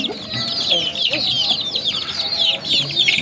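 Chickens cluck and chatter at close range in a rural yard, a steady run of short, overlapping calls lasting a few seconds with some background noise.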